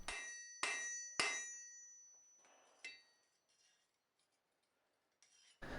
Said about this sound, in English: Then I switch over to a ball peen hammer in order to round things out and give it an appropriate texture.